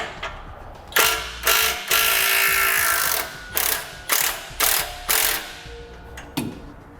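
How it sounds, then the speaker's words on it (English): A ratchet wrench with a 15mm socket loosens an exhaust clamp on a Ram truck, giving several bursts of rapid close clicking separated by short pauses, with a metallic creak near the end. "We'll use a 15mm socket to loosen our clamp."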